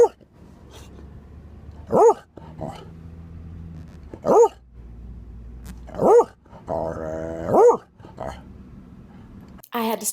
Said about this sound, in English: She's growling and she's barking, but she's wagging that tail and just happy as can be.